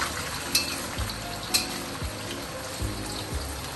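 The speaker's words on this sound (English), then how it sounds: "So when you fry your tofu" Tofu frying in a wok over high heat for sambal goreng, a strong steady sizzle broken by several sharp spatula scrapes and clanks against the metal, close and with no voices.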